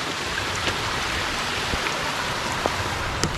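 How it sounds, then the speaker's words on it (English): Heavy rain pours down on a mountain hike in Switzerland in a steady, dense hiss, with occasional louder drops spattering nearby. "it is pouring on us now"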